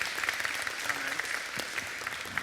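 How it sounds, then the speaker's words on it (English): Audience at a web developer conference clapping for a volunteer, a dense, fairly loud spread of hand claps with occasional sharper individual claps standing out, steady throughout with no talking. "Please, can we give a round of applause for our brave volunteer?"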